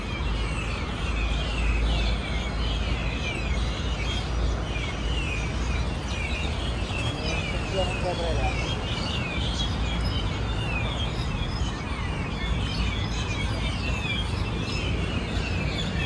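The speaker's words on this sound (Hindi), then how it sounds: "चिड़ियों की आवाज़ें देख लो आप" Birds, including sparrows, chirp and twitter in the distance in a Bangkok park in the early morning, over a steady outdoor background hum, the calls scattered throughout without pause.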